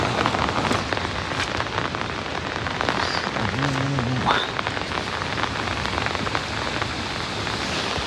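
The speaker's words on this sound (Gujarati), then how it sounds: "વરસાદ ચાલુ છે કન્ટિન્યુ" Steady rain falls outdoors, a dense even patter on surfaces that continues throughout, with a faint tonal sound briefly in the middle.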